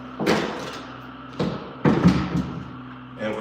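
A door being pried off with a lever on a job site: several knocks, scrapes and thuds of wood and metal, spaced out and moderately loud, with no speech.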